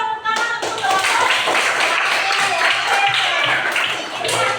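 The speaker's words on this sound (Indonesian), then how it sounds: "Ya, semua tepuk tangan untuk teman-teman." Classroom applause for a student group's work, a brisk, close patter of many hands clapping with light voices mixed in, steady for several seconds.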